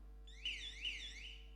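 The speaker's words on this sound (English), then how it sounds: "Buzzer works. Buzzer A works." A contestant's game buzzer sounds at a quiz event, a single electronic warbling tone about a second long, moderately loud against a quiet room.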